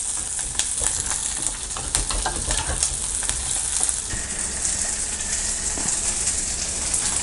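Curry leaves crackle and sizzle in hot oil as tempering for village-style mutton kuzhambu, a dense, steady frying hiss with sharp pops throughout, close and continuous.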